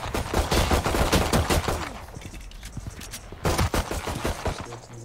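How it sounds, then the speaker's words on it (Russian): Rapid bursts of video game gunfire crack out across the whole stretch, dense volleys with a short lull in the middle, close and loud over background game noise. "Она выстрелила"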